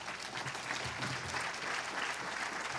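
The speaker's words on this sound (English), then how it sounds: "everybody give a big round of applause" Audience applause fills a lecture hall after a guest speaker is introduced at a talk on politics, a steady wash of clapping hands held at an even level throughout.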